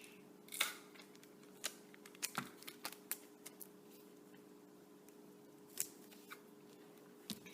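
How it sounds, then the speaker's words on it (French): Scissors cutting a paper roll through the middle, giving faint scattered snips and crisp clicks against a quiet background, with irregular pauses between the cuts. "On va faire comme un autre rouleau qu'on va couper au milieu"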